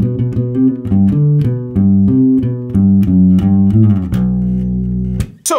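Opening bass line played on bass guitar, a quick galloping triplet pattern of plucked notes moving between pitches. Close and clear, it ends on a ringing held note and a final sharp pluck, with no speech.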